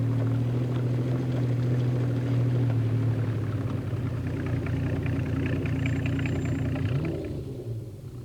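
An open-top Jaguar sports car engine drones steadily up close, a deep rumbling hum that shifts pitch near the end and then fades away.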